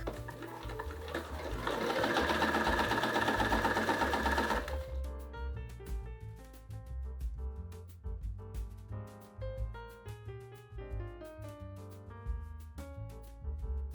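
A sewing machine runs through fabric to form a ruffle, a steady buzzing whirr for several seconds before it gives way to background music.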